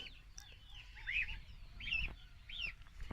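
Chickens cluck and chirp softly at a distance, a few short calls repeating over a low outdoor background.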